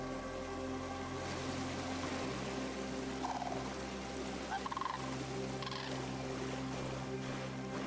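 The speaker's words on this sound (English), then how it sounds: "These are some cool birds." Video game bird calls from AER: Memories of Old, short gobbling, goose-like honks rising over a steady humming wind and water backdrop, faint and spaced out.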